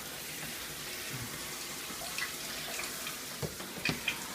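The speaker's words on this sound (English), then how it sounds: "So I'm just going to give them a light watering real quick." Water trickles and splashes gently over sprouting fodder trays in a gravity-fed system, a soft steady running sound with a few small drips and splashes near the end.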